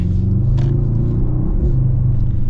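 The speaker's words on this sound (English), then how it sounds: "it's this really deep, throaty V8" A deep, throaty V8 engine of a 2025 Mercedes-AMG GLE 63 S rumbles loudly nearby, rising and falling slightly as it revs, heard from inside the moving car.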